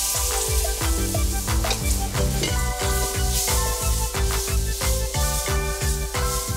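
Flour and chicken stock sauce stirred in a pan for chicken à la king, a steady rhythmic scraping with a faint sizzle, each stroke repeating at a regular pace, close and moderately loud with no talking.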